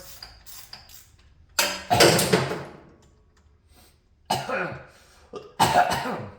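A person coughs in several harsh bursts, a double cough then pauses and more coughs, close and fairly loud.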